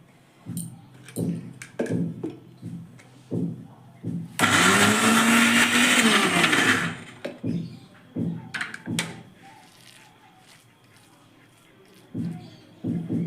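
A blender grinds soaked lentils into a thick bori paste for several seconds, loud and steady, with sparse talk before and after.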